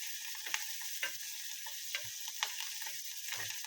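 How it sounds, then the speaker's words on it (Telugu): Dry red chillies and asafoetida frying in a pan with curry leaves, a steady sizzle broken by a handful of quick spatula scrapes as the spices are stirred, close and fairly quiet with no talking. "ఎండుమిరపకాయలు, ఇంగువ ఇవన్నీ వేసుకొని బాగా కలుపుకోవాలండి."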